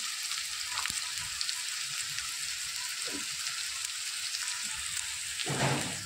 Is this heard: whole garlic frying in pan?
yes